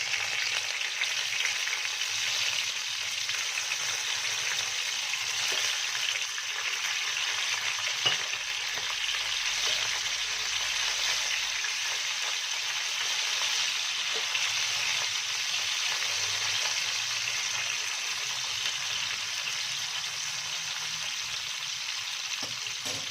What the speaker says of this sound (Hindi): ऑयल हमारा गर्म हो चुका है, इसमें हमने हल्की फ्राई करनी है भिंडी को।